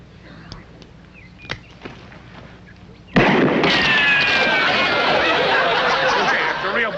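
A gunshot fired in a duel, a single loud blast after a few quiet knocks, followed by a long dense roar of crowd noise and ringing that stays loud to the end.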